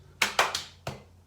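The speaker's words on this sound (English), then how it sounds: "3 claps" Three hands clapping in quick succession, then a short pause and a fourth sharp clap, crisp and close in a quiet room.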